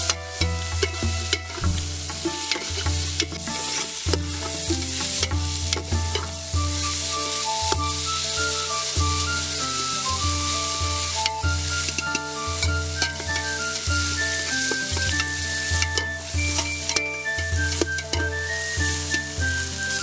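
Chopped tomatoes fry in hot oil in a pan for a village-style biryani, a loud continuous sizzle broken by a steady rhythm of spoon or spatula scrapes and knocks against the pan, heard close with no talking.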